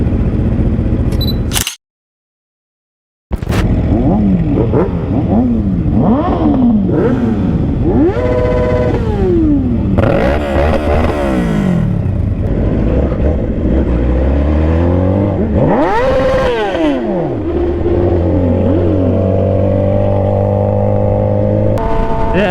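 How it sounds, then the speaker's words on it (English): A motorcycle engine revs hard and repeatedly, close and loud, with rising and falling pitch sweeps during burnouts; a brief gap of silence near the start, then continuous revving and wheel spin. "Oh, we're gonna do burnouts"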